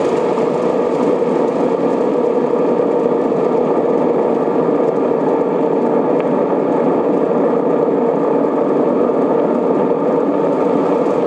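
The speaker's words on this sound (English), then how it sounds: "Here is the newest kind of engine, a diesel-electric." A 1952 diesel-electric railway locomotive engine drones steadily and loudly throughout, a constant even hum without breaks or voices.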